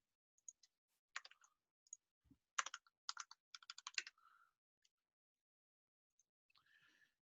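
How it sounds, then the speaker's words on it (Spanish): Someone types on a computer keyboard in a programming lab, with bursts of quick, close key clicks separated by short pauses, some single taps and some rapid runs, in a quiet room. "Vamos a ingresar por teclado."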